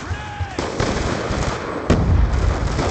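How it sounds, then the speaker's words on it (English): A grenade blast in the Black Ops II shooter, a sharp explosive burst near the end standing out over dense gunfire-like game noise and crackling bangs, with a smaller hit earlier. "throwing grenade!"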